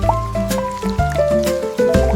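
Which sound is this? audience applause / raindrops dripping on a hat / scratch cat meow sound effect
raindrops dripping on a hat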